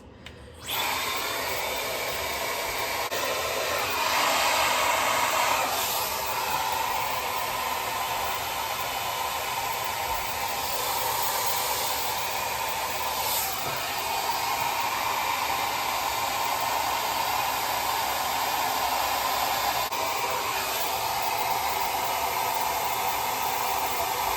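A hair dryer fitted with a shallow diffuser attachment runs continuously as a loud, steady airy whir close by for over twenty seconds, with slight shifts in tone.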